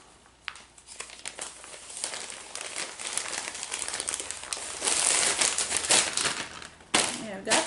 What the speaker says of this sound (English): I need a bag in between that bag and this bag.